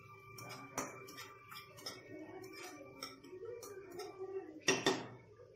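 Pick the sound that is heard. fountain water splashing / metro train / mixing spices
mixing spices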